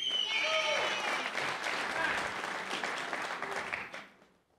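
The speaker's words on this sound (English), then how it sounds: "I think the applause may have taken some of that" Audience applause at a District 3 congressional forum in Pueblo: dense, loud clapping that begins under a trailing voice, holds steady for about four seconds, then fades out quickly.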